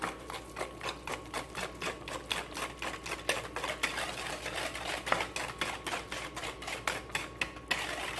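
Pumpkin bar batter being mixed with pumpkin puree, heard as a fast, regular series of close tapping, clacking strokes against the bowl that runs steadily throughout, with no speech.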